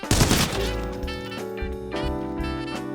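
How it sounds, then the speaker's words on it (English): M96 three-round burst rifle firing in the video game Arena Breakout: Infinite, several sharp close gunshot bursts with ringing tails and mechanical clatter between them, loud with no speech. "It's a 3-round burst fire only rifle with high recoil"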